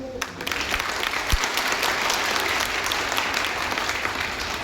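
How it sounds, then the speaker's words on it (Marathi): A crowd at a literary conference in Buldhana bursts into loud, sustained applause, with a thick continuous patter of many hands and a single dull thump near the start. "टाळ्या जोरात वाजवा एकदा."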